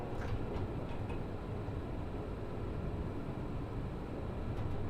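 Train picking up speed in the game Train Sim World 5, a steady low rumble of wheels and motor that holds throughout, with a few faint higher tones near the start.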